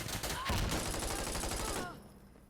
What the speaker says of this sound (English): Shots after shots after shots.